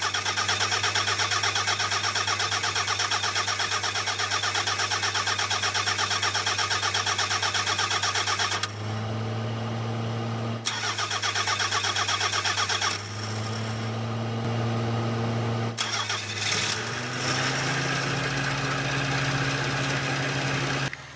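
A Nissan Be-1 engine cranks and runs unevenly while its fuel pump fills the carburetor, a steady loud drone that dips and surges several times as it catches, falters and picks up again, with no talking.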